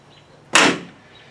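A latch on a second-generation Camaro door pops once as the door is latched, a single close, sharp click that decays quickly, alone with no talk.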